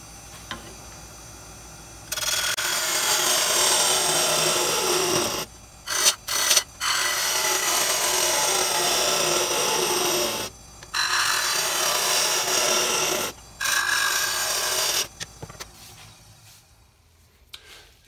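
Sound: hollowing out a wooden bowl on a lathe

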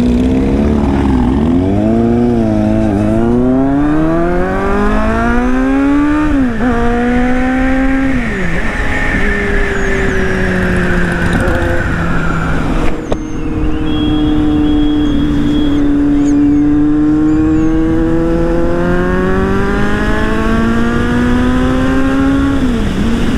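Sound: group of superbikes riding on the road

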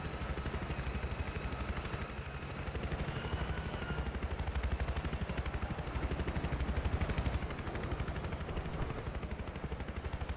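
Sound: helicopter flying in the video game Battlefield 4

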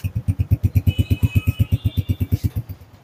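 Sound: used Honda motorcycle engine starting and idling

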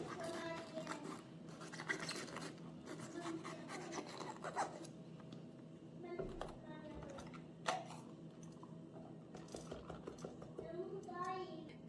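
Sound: cleaning seeds out of peppers for stuffing

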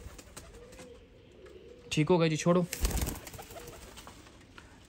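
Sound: pigeons cooing, Peplan wale breed

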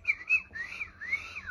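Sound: whistled imitation of bird chirping

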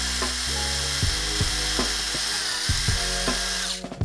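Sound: power drill drilling pilot hole in GameCube case

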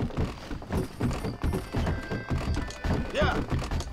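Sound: horse hooves and whinny in video game Red Dead Redemption

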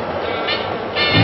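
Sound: New York City subway A train riding

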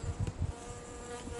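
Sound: bee buzzing on a mountain trail

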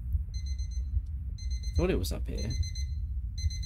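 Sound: alarm clock ringing in horror video game Obsideo

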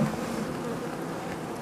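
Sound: robbing honeybees buzzing around a Buckfast hive

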